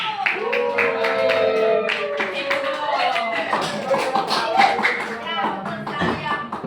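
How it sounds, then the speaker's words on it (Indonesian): Classroom group clapping in rhythmic bursts, sharp claps close by, mixed with children's voices and chatter throughout. "Tepuk tangan dulu"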